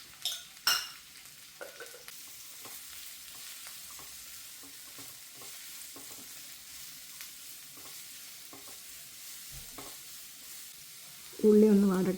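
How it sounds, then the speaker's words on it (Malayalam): Sliced onions sizzle in coconut oil with salt while a spoon scrapes and stirs them in the pan, the strokes quiet and irregular, with a sharper clink near the start and a louder clatter at the end. "അതിലേക്ക് ഉപ്പും ചേർത്ത് നല്ലവണ്ണം ഇളക്കി കൊടുക്കാം."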